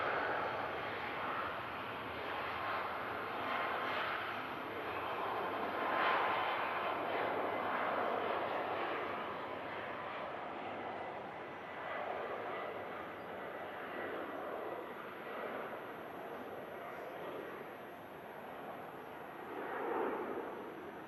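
A Malta Air airliner at Manchester Airport in thick fog roars steadily from a distance, a broad, sustained engine rumble that swells and fades slightly over the whole stretch, with no voices.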